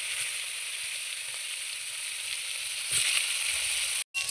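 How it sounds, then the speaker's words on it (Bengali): Eggplant fries in hot oil in a home kitchen pan, a steady close sizzle with a brief stir or scrape near the end. "এবার বেগুনটা ভেজে নিচ্ছি।"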